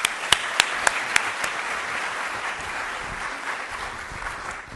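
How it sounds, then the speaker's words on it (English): A lecture audience breaks into steady applause to welcome a baseball front-office speaker, a few sharp early claps followed by a dense, even wash of clapping throughout. "So please give a big round of applause for JP Ricciardi."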